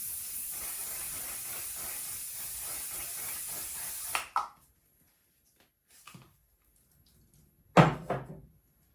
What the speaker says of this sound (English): So I'm going to spray a bit.